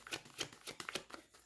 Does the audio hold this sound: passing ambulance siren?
no